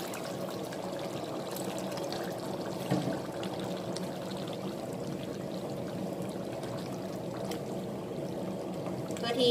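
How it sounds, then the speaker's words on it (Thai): Water poured into a pot of Hang Lay curry, a steady close pour and trickle running for several seconds, with some voice underneath. "แล้วก็เติมน้ำลงไปประมาณอีก1ถ้วยนะคะ"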